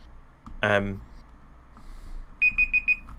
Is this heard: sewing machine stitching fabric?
no